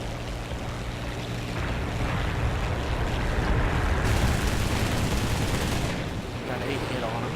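Rapid machine gun bursts from a Fiat CR.32 biplane in the War Thunder air combat game, dense and continuous over a steady engine drone, swelling louder midway then easing, with no talk.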